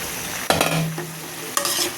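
Fried jackfruit pieces sizzle in a pan of cooked-down spice masala while a spoon stirs and scrapes through them in two distinct bursts over continuous frying.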